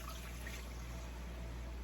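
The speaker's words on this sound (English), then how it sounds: "I'm adding in a couple cups of beef broth" Beef broth pours into a pot for Hungarian goulash, a faint, steady liquid trickle and splash that runs the whole time with no talking.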